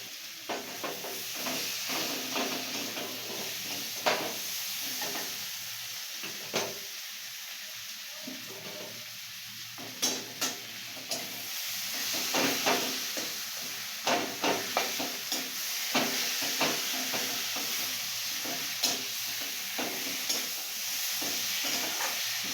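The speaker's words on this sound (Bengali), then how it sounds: "এখানে মা মাছের মাথাটাও ভেজে রেখেছে সেটা এবার দিয়ে দিচ্ছি" A fried rohu fish head is stirred into a fish-head chochchori frying in a pan. Soft sizzling runs under repeated scraping and clacking from the stirring, fairly quiet and close, with no talking.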